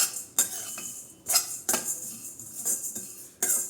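Semiya vermicelli is fried and stirred in a pan, with a spoon clinking and scraping against the metal in close, irregular bursts over a faint background hiss.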